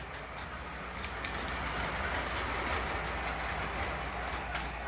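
A 1980s Williams F7 model train locomotive running, a steady close whirring rumble with faint rhythmic clicks from the track and occasional bird calls in the background.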